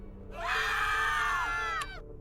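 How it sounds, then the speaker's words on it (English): The Freakazoid scream sound effect played on a stream: a single loud, shrill, sustained cartoon scream lasting about a second and then cutting off abruptly, with no talking. "the scream bit from Freakazoid turned into a sound routine"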